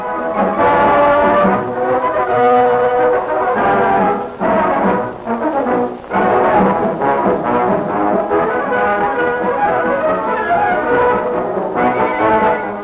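A steam locomotive bound for the Honam line sounds its whistle at a 1955 Korean first-run ceremony with officials present, giving long, loud, chord-like blasts separated by short breaks.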